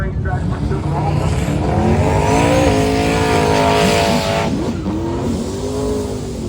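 Race cars roar along a drag strip, engine notes rising and sweeping past in a loud, sustained pass before easing off, with an announcer's voice running over the noise.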